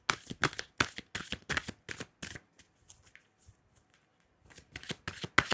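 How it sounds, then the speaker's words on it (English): Tarot cards shuffled by hand in quick bursts of crisp riffling, a run of dense flutters, then a quiet pause with faint handling before another fast flurry of shuffling. "Let's pull a card."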